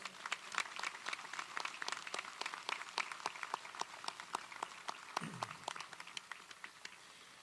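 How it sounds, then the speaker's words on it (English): Distant, sparse clapping at a university spring commencement, individual claps spaced out and faint throughout, with a brief low thump partway. "Let's give the Bridge to Independence students another big round of applause."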